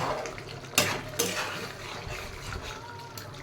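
Pot of jackfruit curry lifted off the stove, with two sharp metallic clanks of the pot early on over a low kitchen background.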